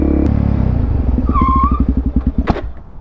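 A supermoto motorcycle engine throbs loud and close as the rider rolls off, its firing pulses slowing and stuttering under heavy engine braking before a sharp clack near the end.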